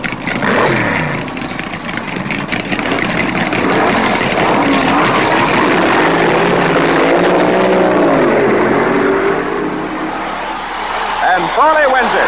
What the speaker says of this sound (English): that's where we are right now, the finals in the funny car competition